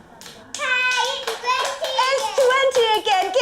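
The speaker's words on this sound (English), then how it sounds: "Give Cheeky another clap." A group of preschool children clap their hands in a classroom, several quick, loosely timed bursts of clapping, near and fairly clear, mixed with children's voices.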